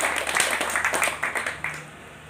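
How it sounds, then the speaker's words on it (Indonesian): Applause from an audience at a ceremony at the Museum Pusaka Nias, heard as a fairly quiet, steady patter of many hands that thins out toward the end. "Kita tepuk tangan untuk"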